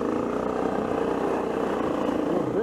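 A motorcycle engine running in low gear on a trail, a loud, steady, close throbbing drone that holds an even pitch throughout.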